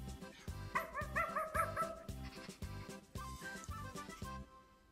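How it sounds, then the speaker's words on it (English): A pet dog barks in a steady run of about nine sharp, fairly close barks, with a few whimpering yips mixed in and no talking. "my dog."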